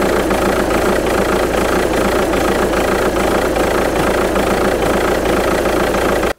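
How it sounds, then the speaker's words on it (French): Volkswagen Touran 2.0 TDI 136 hp AZV diesel idling roughly, a steady loud throbbing drone with a faint irregular pulse running throughout, heard alone with no talking. "ça tremble pas mal à ce niveau là, mais en tout cas vous devez l'entendre."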